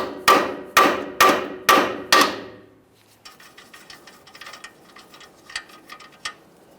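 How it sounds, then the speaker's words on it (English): A hammer strikes a steering knuckle to free the tie rod end on a 2015-2020 Ford F-150, five loud, evenly spaced ringing metallic blows, followed by quieter scattered clicks and light taps. "we'll start lightly tapping on this area"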